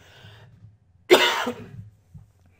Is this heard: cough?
yes